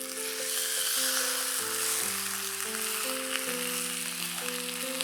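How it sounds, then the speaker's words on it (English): Steady crackling sizzle of skin-side-down chicken frying in hot oil in a pan, loud and close, with a melodic tune playing underneath throughout. "You should hear the sizzle when you put the chicken in the pan."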